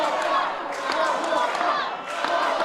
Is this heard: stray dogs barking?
no